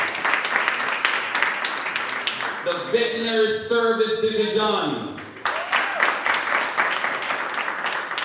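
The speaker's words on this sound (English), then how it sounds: "give them a round of applause" Audience applause at a seminar on praedial larceny, clapping for several seconds that pauses while someone speaks over a quiet stretch and then resumes strongly.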